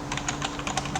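Rapid typing on a computer keyboard running Ubuntu Linux, a quick, even run of close, crisp key clicks with no voice over it.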